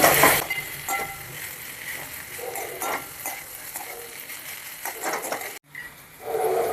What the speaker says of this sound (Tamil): இப்போ நம்ம வந்து இந்த பொட்டேட்டோ உருளைக்கிழங்கை வந்து போட்டுக்கலாம் நல்லா கலந்து விட்டுட்டு